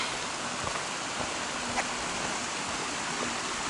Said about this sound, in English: And there's Thielsen Creek.